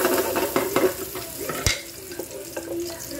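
Garlic and onion fry in a pan as they brown, a soft sizzle under clattering utensil knocks and scrapes, with one loud sharp bang partway through.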